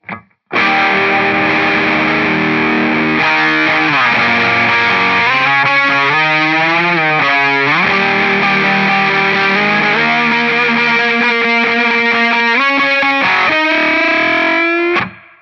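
A heavily distorted electric guitar plays a continuous solo, full of sustained notes, bends and quick runs, loud and up front throughout.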